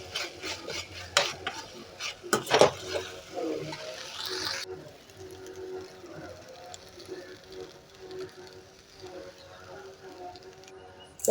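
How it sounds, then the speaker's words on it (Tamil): Eggplant chutney with tamarind is sautéed in a pan with a spatula. Several sharp scraping stirs come early, then a soft, continuous sizzle follows, with someone talking in places. "வாசனை போகிற அளவுக்கு வதக்கிக்கணுங்க"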